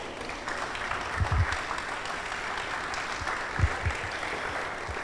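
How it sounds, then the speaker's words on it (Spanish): A church congregation applauds during a Spanish-language service, a broad wash of clapping with a few low thumps, heard from a moderate distance and holding steady throughout. "Dale un aplauso al Rey."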